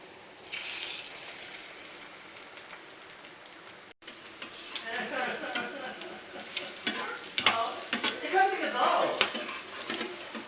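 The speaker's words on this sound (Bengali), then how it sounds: "চলো ভেজে নিই চারটে চারটে করে ভাজি" Egg toast fries in a pan, four slices at a time: a quieter sizzle at first, then a sudden louder, busier crackle with sharp popping bursts, up close and without talk.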